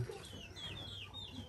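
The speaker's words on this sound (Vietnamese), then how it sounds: "Gà ngan này nhốt hết ở đây." Chickens and muscovy ducks penned together give soft, close clucking in a brief burst, with a few higher chirps over a low rustling background.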